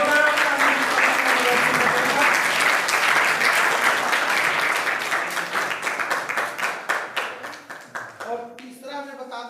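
Audience applause for a general knowledge quiz winner at a Constitution Day event at a government higher secondary school, a loud burst of clapping that thins into scattered individual claps before a voice speaks at the end.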